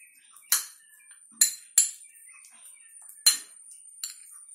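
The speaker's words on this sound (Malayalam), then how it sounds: "ഇതിനെ നന്നായിട്ടൊന്ന് മിക്സ് ചെയ്ത് കൊടുക്കാം" A spoon mixing a homemade face pack of turmeric, salt and milk in a bowl, heard as a handful of sharp separate clinks against the rim amid quiet scraping.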